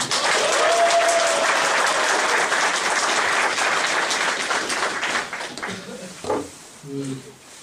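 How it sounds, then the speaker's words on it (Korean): A loud crowd at a workers' party general assembly bursts into sustained applause that fades out near the end, followed by a few brief voices. "우리 국제 박수로 시작하도록 하겠습니다"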